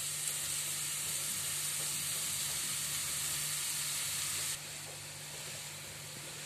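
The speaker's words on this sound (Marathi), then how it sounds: "आता आपण यात हा गाजराचा किस फ्राय करून घ्यायचा आहे।" Grated carrot fries in melted ghee over a low flame, a soft, even hiss and sizzle close by that drops slightly in level partway through, with no talk.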